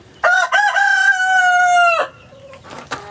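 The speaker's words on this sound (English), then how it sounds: "That is the sound of a hen that doesn't want to be bothered while she's laying an egg." A hen lets out a loud, drawn-out squawking call up close while laying an egg, followed by a couple of short, quieter clucks.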